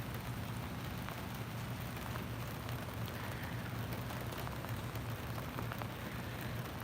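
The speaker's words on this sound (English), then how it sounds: "It's just heavy rain." Heavy rain pours steadily without a break, a dense, even hiss of drops hitting a surface, loud and close, with no voices.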